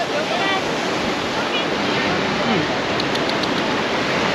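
Sea waves at a Tel Aviv beach make a steady, loud, broadband wash of surf that continues unbroken throughout.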